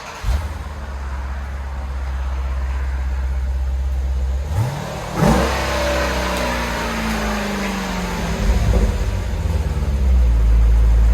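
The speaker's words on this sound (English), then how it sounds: "2021 Jeep Grand Cherokee SRT. This is what it sounds like before." A 2021 Jeep Grand Cherokee SRT with its 6.4L HEMI V8 and stock exhaust idles with a deep rumble, then gets blipped in a couple of sharp revs that rise and fall, with a heavier rev building toward the end.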